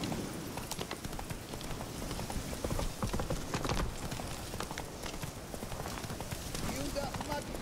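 Geralt's horse Roach in The Witcher 3: Hearts of Stone, hooves clip-clopping in a rapid, steady running rhythm throughout, close and fairly loud, with the surrounding game ambience underneath.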